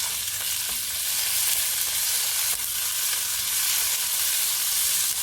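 Garlic and ginger fry in a pan with a steady, close crackling sizzle, continuous and fairly loud with faint occasional stirring scrapes and no talk.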